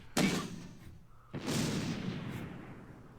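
Gunfire sounds in the World War II tactics game Close Combat, with two sharp, fairly loud reports about a second apart, the second trailing off in a long rumbling decay.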